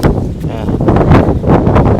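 Wind buffets the microphone outdoors at a village shrine, a continuous low rumbling roar with gusty swells throughout, close and fairly loud.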